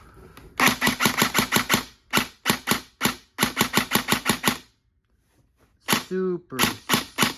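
A Cyma Platinum EMG custom Daniel Defense M4 airsoft rifle fires on semi-auto: rapid, crisp, snappy shots in quick runs with short pauses between groups, loud and close, with a brief voice sound near the end.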